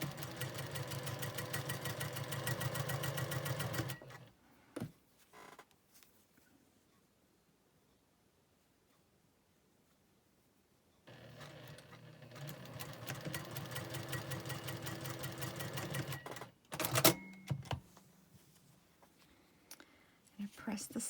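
A sewing machine stitches quilt block seams for an uneven nine patch in two long runs, a fast steady whir close by, separated by a quiet pause with small handling clicks.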